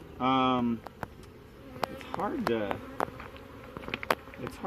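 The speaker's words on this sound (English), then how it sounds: "See if I can push these bees out of the way." Honey bees buzz inside an open hive during a mite check, a steady close drone of many wings with brief louder buzzes flaring past the microphone, while a person speaks briefly.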